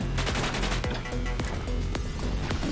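Enemy gunfire in the sci-fi roguelite shooter Orbital Bullet, sharp repeated shots cracking over a dense, steady bed of game music and effects, with no talk.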